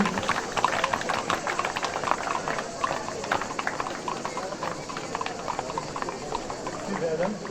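Many horses' hooves, about 120 horses at a Saint-Éloi procession in Château-Gombert, Marseille, clip-clop on a hard surface in a busy, overlapping patter, with a crowd and voices murmuring throughout.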